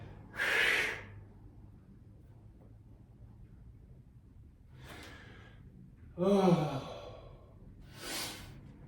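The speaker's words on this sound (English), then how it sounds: "Grab wherever you're comfortable and breathe all your air out." Forceful exhales during a core mobility and strengthening workout: a few loud, breathy bursts of air pushed out, separated by long quiet stretches, close to the microphone with no speech.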